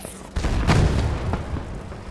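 A bomb explosion in the video game Battlefield lands as a single deep boom with a rumbling tail, fairly close and loud.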